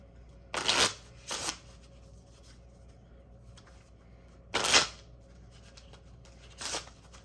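Playing cards are shuffled close up in four quick riffling bursts, separated by quiet pauses.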